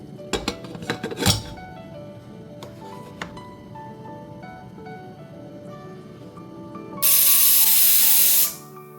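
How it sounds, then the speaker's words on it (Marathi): A pressure cooker cooking khichda ends in a loud hissing steam release lasting over a second, after earlier clinks of pots and utensils in a quiet kitchen. "आता आपण झाकण लावून ह्याच्या 3-4 शिट्या करून घेऊया."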